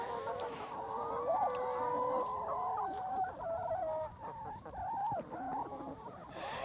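Farm chickens cluck and chatter close by, a busy overlapping mix of squawks and rising calls from several birds, with quieter barn background between bursts.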